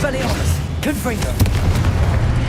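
A Confringo blasting spell explodes in the Hogwarts Legacy video game, a sustained low booming rumble with swooping tonal effects layered over it.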